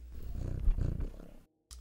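A cat purrs in the video game Off, a low rumbling vibration lasting just over a second, loud and close, followed by a brief silence and a short soft sound.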